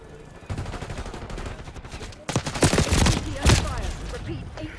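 Rapid bursts of video-game gunfire in a shooter match, several loud volleys crackling in quick succession with sharp peaks, no talking over them.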